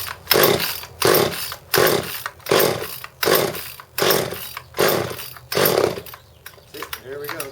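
Craftsman chainsaw with a freshly rebuilt carburetor is pull-started repeatedly with choke on, eight rhythmic rasping recoil pulls about one per second, close and loud, without catching.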